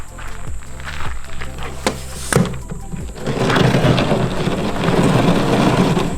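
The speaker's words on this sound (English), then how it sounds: "we got a pretty gnarly storm rolling through, a bunch of thunder, lightning" Thunder from a storm passing over a tiny home cracks sharply a few times, then gives way to a loud, continuous roar of heavy rain.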